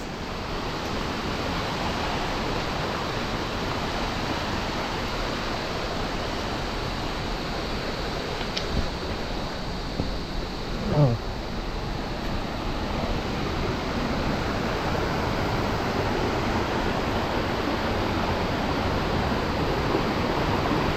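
Ukab Falls in Manabo, Abra pours with a steady, dense roar of falling water, broad and continuous from nearby, with a couple of faint knocks partway through.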